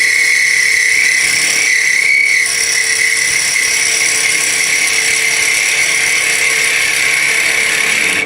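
A skew chisel taking a peel cut on a wood lathe spindle, a steady high whine of the cut over the lathe's hum, loud and close throughout.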